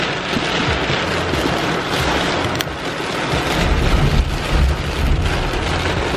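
Steady, dense rain from Hurricane Dorian on Anguilla hisses loudly and continuously, with a low rumbling wash underneath and no voices.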